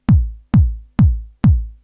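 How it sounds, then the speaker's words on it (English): Four punchy kick drum hits from a Korg Volca drum machine in a steady, evenly spaced beat, each with a deep booming low end that decays quickly. "first I have a kick drum like this,"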